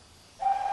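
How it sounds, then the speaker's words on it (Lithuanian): Loud steady train whistle in a Thomas and Friends cartoon, a single sustained clear tone that starts suddenly after a quiet moment and holds to the end. "Staiga pasigirdo garsus švilpuko garsas."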